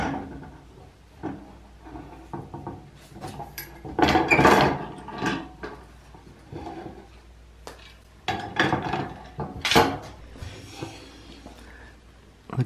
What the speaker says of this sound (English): Before we go out and milk Willow, I want to take the clamps off of these Cherry Boy glue-ups and see how they came out